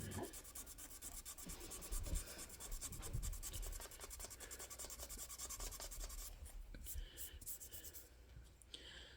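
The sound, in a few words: sanding a surface by hand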